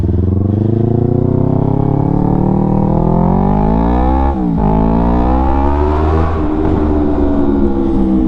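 Yamaha R3 motorcycle with an Akrapovic full system exhaust, loud and close, its engine note climbing steadily through the gears with a brief dip at a shift, then pulling on hard.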